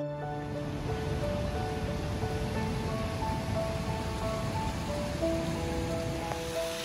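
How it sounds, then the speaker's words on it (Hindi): Pindar River flowing far below a mountain trail between Dwali and Furkiya, a steady broadband rush of water, faint and distant, with occasional thin tones over it and no speech. "नीचे है पिंडर नदी"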